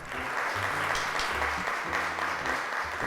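Audience applause greets a guest invited to the microphone on a Turkish children's TV show, a dense steady wash of clapping that fills the whole stretch at even loudness.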